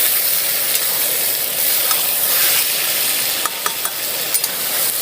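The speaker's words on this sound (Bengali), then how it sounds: "নিয়ে আবার ভালো করে কষিয়ে নেব।" Mutton kosha stir-fried in a pan gives a loud, steady sizzle and hiss throughout, with occasional sharper scrapes and clicks from stirring and no voices.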